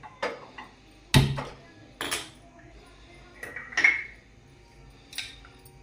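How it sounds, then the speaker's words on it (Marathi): Metal kadhai clanking onto a stove burner, with a few sharp separate knocks and scrapes of cookware spread over a few seconds in a home kitchen. "आता आपण कढई तापत ठेवूया।"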